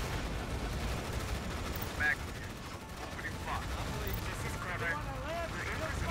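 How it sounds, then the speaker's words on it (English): Artillery and gunfire from a battle in Tom Clancy's EndWar, a dense continuous barrage of distant booms and crackling shots with a few sharper bursts, rumbling under speech. "get the artillery firing"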